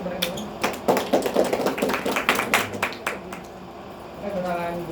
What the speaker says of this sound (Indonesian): Tepuk tangan dulu untuk 3 narasumber ini.